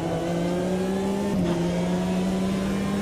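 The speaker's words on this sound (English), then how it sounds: "Exactly rev on the downshift because we're on paddle shifters" A V12 LMP900 prototype race car in the Automobilista 2 racing game, its engine droning steadily at high revs with a brief blip and dip as it downshifts on paddle shifters, then holding a constant loud tone.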